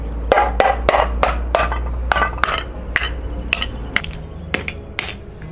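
A homemade crusher machine breaks up roof tile, giving a rapid series of sharp, loud cracking impacts over a low motor drone, about a dozen knocks in an uneven rhythm.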